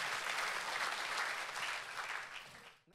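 A church congregation bursts into lively applause, a dense, even wash of many hands clapping together that fades out abruptly at the end.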